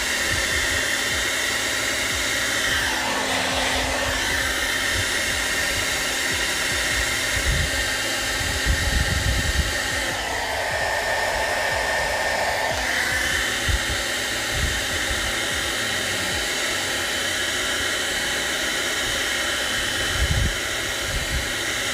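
A hot air blower runs steadily to heat a custom car badge, a continuous close whooshing roar that holds level for the whole stretch with slight swells in tone, no voices.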